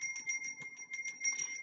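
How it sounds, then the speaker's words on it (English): A small hand bell is rung to clear energy, giving a quick series of bright, ringing strikes with sustained metallic tones, close and clear with no talking. "I'm going to clear the energy a little bit with the bell."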